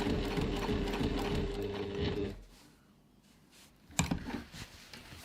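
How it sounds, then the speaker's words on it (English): Sewing machine stitching across the bottom of a reusable grocery bag strap, a steady close mechanical whir that stops after about two seconds, followed by quiet handling and a sharp clack. "Turn, stitch across the bottom of the strap,"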